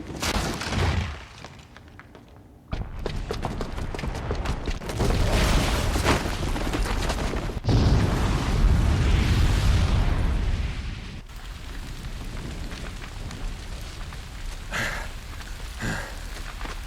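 A bomb booby trap going off in Horizon Zero Dawn gives a sudden loud blast that rolls into a long, heavy roar of rumbling debris and crackle, then settles into a lower sustained rumble.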